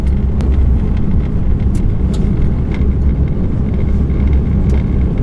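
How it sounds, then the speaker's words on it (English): A car drives along a road at night, with a loud, steady rumble of engine and tyre noise heard continuously from inside the vehicle. "Driving back home"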